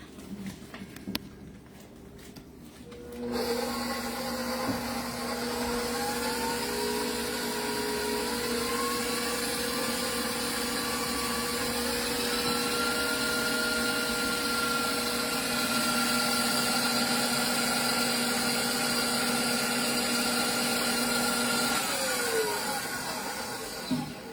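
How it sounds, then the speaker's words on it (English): A KitchenAid stand mixer whirs at steady speed in a home kitchen, a loud constant motor hum with a high whine that holds for about twenty seconds after a brief quieter start, then cuts off. "I'm going to run this KitchenAid"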